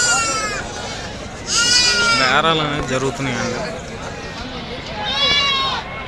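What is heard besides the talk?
native sheep bleating at market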